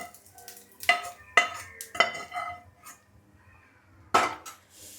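Ingredients for patwadi rassa are roasted in a pan before onion goes in, heard as sharp metallic clinks and scrapes of a spoon against the pan in separate strokes with soft pauses between.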